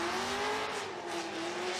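A Nissan S14 drift car on Federal tires laps a Formula Drift track, its engine droning steadily at a distance under a constant broad roar of tire and crowd noise.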